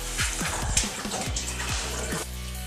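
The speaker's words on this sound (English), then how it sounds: "As you can see now, it's still actually dripping quite a lot." Engine oil dripping and trickling from the drain of a BMW 330i with the N53 engine during an oil service, a close, continuous splattering of liquid with repeated drip impacts and no voices.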